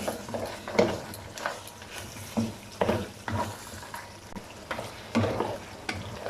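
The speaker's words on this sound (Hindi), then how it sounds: "और इसे अच्छे तरीके से 5 मिनट तक भूनेंगे।" Mutton karahi being stirred and fried with butter in a wok, a steady close sizzle broken by repeated scraping strokes of a spoon against the metal, several stirs in irregular rhythm with no talk.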